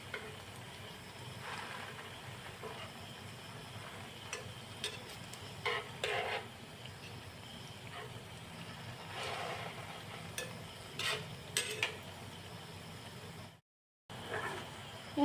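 Puffed rice sweets fry gently in oil in a pan and are turned over now and then, a soft, close sizzle with scattered light scrapes and taps of the utensil; quiet overall, with a brief dropout near the end.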